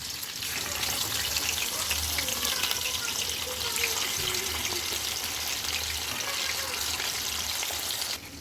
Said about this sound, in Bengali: তেল গরম হয়ে গেছে, আমি রুই মাছ দিয়ে দিলাম।